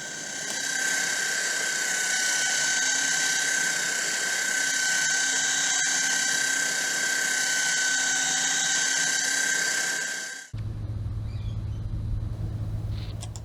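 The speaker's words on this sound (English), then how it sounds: "cleaned up the inside and outside faces with a belt" A belt sander runs continuously on wooden faces of a restored boat, a loud steady high whine with abrasive hiss, then cuts off abruptly to a lower rumbling hum.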